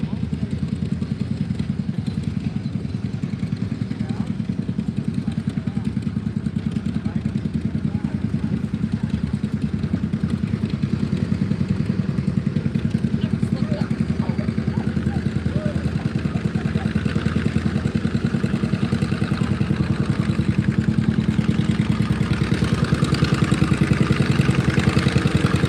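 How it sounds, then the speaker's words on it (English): A pulling tractor hooked to the sled roars down the track at a tractor pull, a steady, loud, low engine drone held for the whole stretch, with an announcer's voice faintly under it at times. "hooked up to the tractor"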